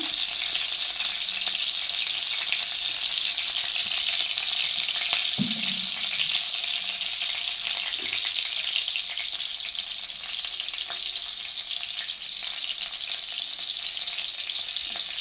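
Eggplant frying in hot oil gives a steady, dense sizzle that carries on evenly for the whole stretch, close by, broken once or twice by a faint clink of a utensil, with no talk.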